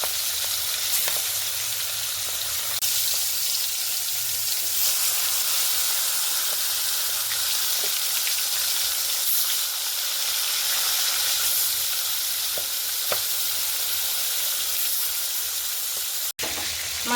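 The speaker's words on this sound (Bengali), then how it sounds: "এই মাছটা ফাটছে, সাবধান কিন্তু।" Fish fries in a pan of hot oil, giving a constant close sizzle and hiss for the whole stretch, with small pops and spatters breaking through now and then and one sharp click near the end.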